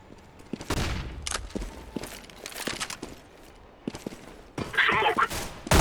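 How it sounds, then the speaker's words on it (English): Sharp bursts and pops of a flashbang grenade and other gunfire in a CS:GO match between Renegades and Team SoloMid, several loud cracks spread across the clip with a denser hissing blast near the end. "Throwing a flashbang."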